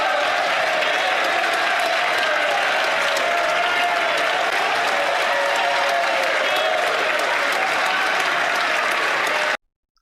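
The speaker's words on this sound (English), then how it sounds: "Andrew Scheer laughing and clapping" Members of the House of Commons applaud through a Canadian parliamentary debate, a dense, continuous roar of clapping from a large chamber with a blend of voices underneath, which cuts off abruptly near the end.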